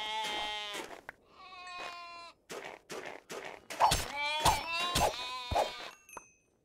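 Sheep in the RLCraft Minecraft modpack video game bleating repeatedly, a run of harmonic, wavering bleats close and fairly loud, some overlapping, with short gaps between them and no talk.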